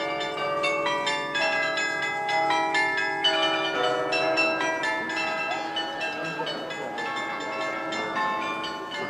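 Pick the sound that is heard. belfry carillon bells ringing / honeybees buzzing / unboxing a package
belfry carillon bells ringing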